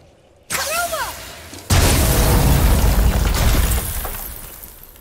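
In God of War, a heavy candelabra comes crashing down with a loud boom followed by shattering and breaking debris, a rumbling crash that slowly tails off.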